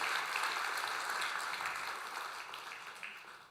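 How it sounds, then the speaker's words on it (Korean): A church congregation at a Sunday service claps together in steady, dense applause that stays loud for a few seconds and then tapers off, with no voices over it. "우리 건강하게 잘 군복무하라고 격려의 박수하겠습니다."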